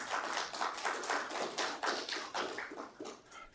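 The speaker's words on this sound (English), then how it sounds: "So you all can just give them a round of applause." Round of applause from the audience at a city council meeting, steady clapping from a group that slowly thins and fades out over a few seconds, at moderate distance with no talk.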